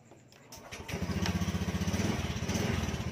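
A motorcycle engine cranks and catches after a fingerprint scanner unlock, starting about half a second in and settling into a steady, loud, close-up putter of idle.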